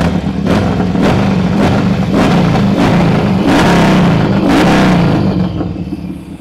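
A 2024 Harley-Davidson XL1200X Sportster Forty-Eight with a full system exhaust idles with a deep, loping rumble, punctuated by several sharp throttle blips, loud and close.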